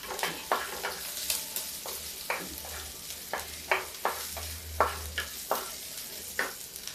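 Fenugreek and vegetables sizzle in a hot pan with a constant frying hiss, broken by regular scraping stirs of a spoon, close and steady.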